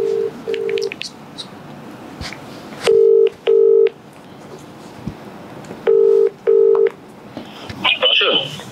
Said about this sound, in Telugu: ఓకే కాల్ చేస్తున్నా, లౌడ్ స్పీకర్